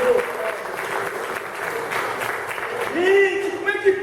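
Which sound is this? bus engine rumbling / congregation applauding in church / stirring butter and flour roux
congregation applauding in church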